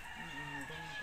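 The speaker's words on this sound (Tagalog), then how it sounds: "Pangalan ng manok namin sa bahay, Strawberry." Several domestic chickens cluck and crow softly at a house, a steady low chatter of fowl sounds lasting about a second.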